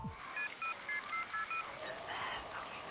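A telephone keypad gives a run of about six short two-tone beeps as keys are pressed in an even rhythm, clear and close over faint background noise, followed by fainter muffled sounds.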